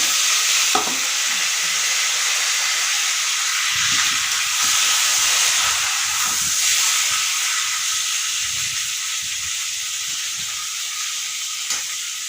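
Radish pieces fry in hot oil tempered with bay leaf and five-spice, giving a loud, steady hissing sizzle up close, broken by occasional stirring clatter.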